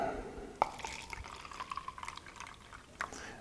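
Gatorade sports drink is poured into a container, making a short, trickling splash with a few distinct drips and a brighter drop at the end.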